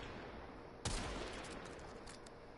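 One sharp, loud gunshot hitting an enemy in the video game Warframe, then a decaying tail and a few fainter impact clicks over steady quiet background hiss.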